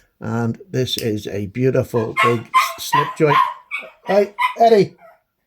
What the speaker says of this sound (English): you might hear a lot of barking because my wife's out and they're pining at the door